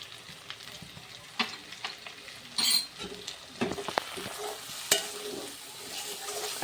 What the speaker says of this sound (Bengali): মশলাগুলো দিয়ে আমি ভালো করে কষিয়ে নিয়েছি